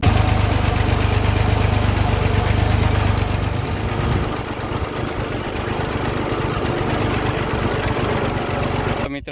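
A new tractor's engine runs in a farm field, a steady, loud rumbling drone close by that shifts to a slightly lighter idle partway through, continuing without talk.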